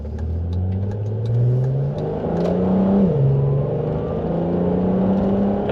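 An Audi TT Mk1 with a V6 engine accelerating through the gears, a mid-pitched exhaust drone rising in pitch, dipping at a shift, then climbing again, steady and fairly loud throughout.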